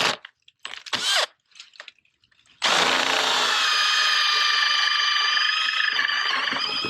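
A power drill bores holes into a tree trunk for a deer-hunting scrape tree. A few short handling knocks come first, then the drill runs loud and steady with a sustained whine to the end.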